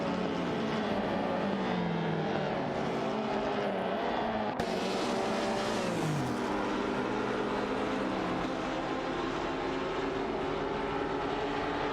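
Race cars in a racing video game produce a constant dense roar of multiple engines, with layered rising and falling pitches from passing cars and a sharp jump in intensity partway through.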